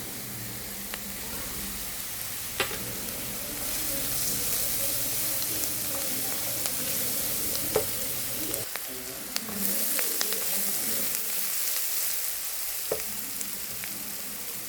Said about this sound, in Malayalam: ഉള്ളി ഒന്ന് വഴണ്ടിട്ടുണ്ട്. മഞ്ഞൾപ്പൊടി ഇടുവാണേ.